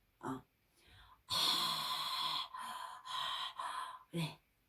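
Breath pushed in and out through a harmonica playing Arirang, producing several sustained reedy chords that swell and pause, with brief voice sounds at the start and end.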